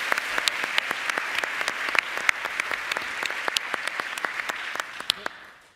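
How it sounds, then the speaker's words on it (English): An audience at a Nobel Prize dialogue event in Sydney applauds the Nobel and UNSW teams, a moderate crowd clapping steadily with distinct individual claps standing out, then fading away at the end. "So a round of applause for Nobel and"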